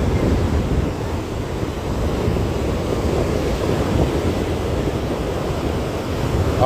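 Ocean waves rolling onto a shore, a loud continuous wash of surf mixed with strong wind buffeting the microphone, with no break throughout.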